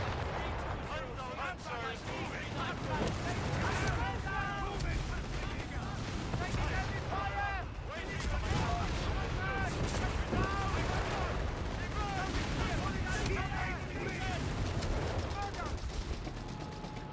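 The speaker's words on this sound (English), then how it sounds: "I'm gonna barrage him behind there." Artillery barrage in Company of Heroes 3 with a Deutsches Afrikakorps force in a 1v1 match: a steady, dense rumble of shelling and gunfire, with voices heard through the battle noise.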